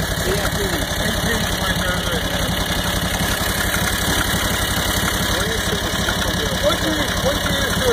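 A Harbor Freight Predator V-twin engine with a turbo, fitted in a Willys Jeep, idles loudly and steadily nearby with a rough, rhythmic pulsing throb.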